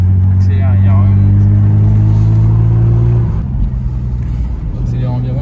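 Toyota Supra MKIII from the 1980s accelerating on the road, its engine droning loud and steady with a rising harmonic tone, then easing off as voices talk over it.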